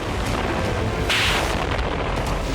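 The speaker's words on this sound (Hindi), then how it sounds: "इजराइल का रोशपिना शहर रॉकेट विस्फोट से दहल गया" A deep, heavy rocket explosion in Rosh Pina, Israel, swells out of continuous roaring rumble, the blast lingering in a broad wash of noise.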